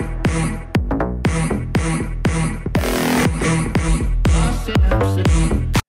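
A music mix plays through a Yamaha NS10 studio monitor emulation, with punchy, rhythmic drum hits and dense backing in a narrow, boxy tone. It is loud and continuous, then cuts off abruptly at the end.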